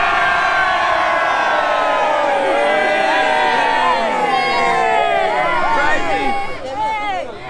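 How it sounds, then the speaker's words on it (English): A group of young people at a fountain cheers and whoops loudly all at once, with overlapping high shouts and yells that stay dense and close throughout before tapering slightly at the end. "Just cheer, yeah?"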